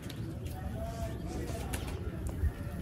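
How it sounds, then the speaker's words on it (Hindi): A caught pigeon with a grease-marked coat cooing faintly in the background while someone talks over it, with a soft low coo near the end. "ये वो कबूतर है जो के पकड़ा है"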